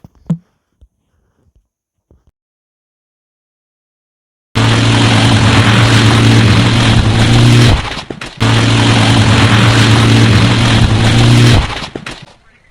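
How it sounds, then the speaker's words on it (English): Homemade helicopter engine built from scratch, starting abruptly after a few faint knocks and then running as a loud, steady, close roar, briefly cut off once before resuming and stopping. "This guy from Pakistan built a helicopter from scratch."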